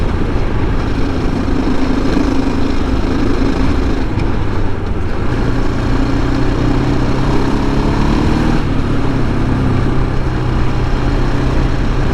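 2007 KTM 690SM motorcycle ridden on a gravel road: a loud, continuous engine drone with strong wind buffeting throughout and slight rises and dips in pitch, no talk.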